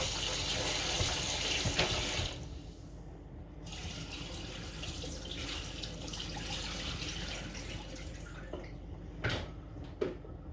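A kitchen tap runs cold water for chicken foot soup, a soft, steady hiss and splash that shifts slightly as the flow hits the vessel, with a couple of small clinks near the end; quiet and unvoiced.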